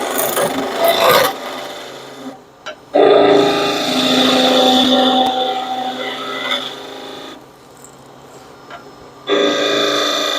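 A wooden tool handle turned on a lathe at about 1600 RPM with a skew chisel, giving bursts of rasping, shaving cuts that stop and start across several passes, close and fairly loud.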